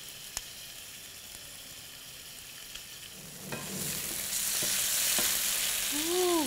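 Chicken frying in a pan with basil added, a close, steady sizzle that swells into a loud hiss as the leaves hit the hot oil, with a few scraping clicks.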